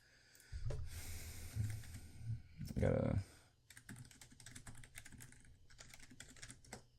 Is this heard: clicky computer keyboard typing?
yes